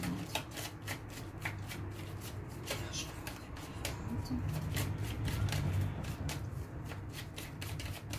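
Tarot cards being shuffled by hand close up, a dense continuous riffling and flicking with rapid papery clicks that carries on through the whole stretch without speech.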